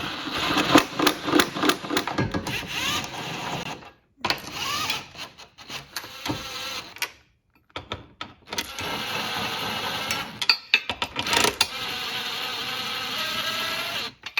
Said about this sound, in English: just snug them up a bit using a 19mm socket